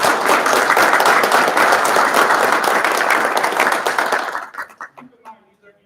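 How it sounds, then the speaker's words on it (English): An online meeting audience gives a round of applause for international award winners, loud sustained clapping that carries on steadily and then thins out and fades to a few scattered claps near the end. "So I just wanted to give them both a round of applause."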